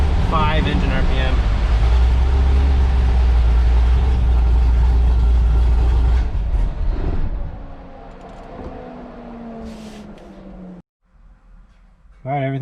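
A Corvette Z06 engine runs on a dyno at full throttle, a loud, steady, deep roar that holds for several seconds, then winds down to a quieter idle before falling silent and starting up again briefly at the end.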